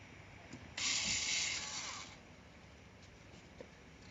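A VW T5/T6 gear knob is being unscrewed, giving one close burst of rough ratcheting and grinding that lasts about a second, then a few faint clicks in a quiet room.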